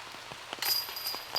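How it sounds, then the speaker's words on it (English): Rain falls on an outdoor disc golf course during the 2018 Beaver State Fling tournament round, a soft, steady hiss with scattered light drop taps that swell slightly partway through. "The rain can just be such a mental, frustrating thing"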